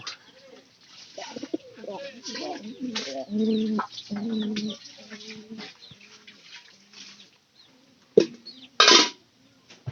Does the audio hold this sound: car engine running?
no